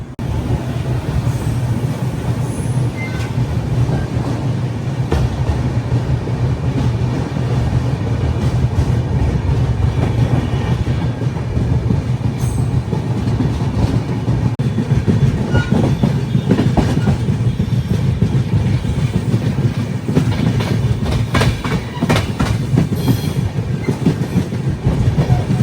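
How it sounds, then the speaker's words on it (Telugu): Passenger train pulling out of Bhilwara station on platform 1, heard from on board, with a constant loud rumble and steady clickety-clack of wheels over rail joints throughout. "5 నిమిషాలు ఆగి బయలుదేరిపోయింది మన ట్రైన్."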